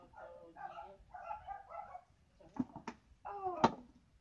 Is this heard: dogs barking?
yes